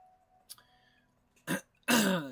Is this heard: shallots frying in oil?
no